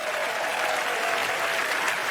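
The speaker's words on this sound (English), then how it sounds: "Give him a huge round of applause" Dense, sustained audience applause at a TED Talk on mind reading, loud and even throughout with no break.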